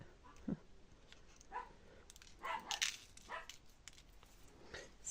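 Dogs bark and yip in short scattered bursts as they play, faint and somewhat distant, with a few whimpering notes between the barks.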